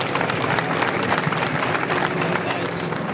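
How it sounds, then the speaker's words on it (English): An audience at a USMC retirement ceremony breaks into dense, continuous applause, close and loud throughout, with a few brief voices mixed in. "Would you give her a round of applause, please?"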